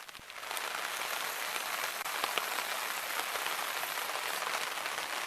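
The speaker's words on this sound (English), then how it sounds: "So the rain continues" Steady rain drumming on a campsite tarp in the Southern Kawartha Highlands, a dense continuous patter with a few sharper drops, close and unbroken, with no talking.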